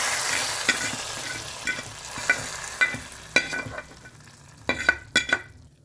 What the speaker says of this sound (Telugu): ఇప్పుడు తాలింపు వేసేస్తున్నాను.